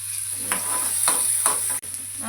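Small sliced onions sautéing in a pan, a steady close sizzle with a few scraping stirs, alone without talk.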